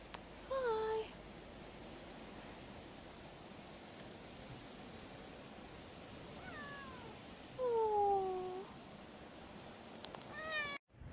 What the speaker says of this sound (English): We came around the corner and there's more cats.